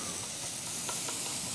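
Minced garlic sautéing in a frying pan, a close, steady sizzle with a few soft stirring scrapes, alone without talk.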